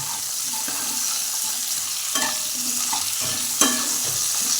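Eggplant and potato pieces sizzle in hot oil while a utensil stirs them, giving a continuous frying hiss broken by several scraping clinks against the pan, one sharper knock standing out near the end.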